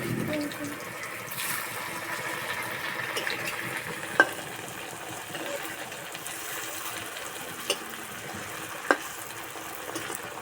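Chandrakanti pitha fry in oil with a soft, steady sizzle, joined by light stirring and a few brief clinks, heard close and fairly quiet.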